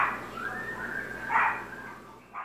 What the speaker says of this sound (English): My dog is like barking at something outside.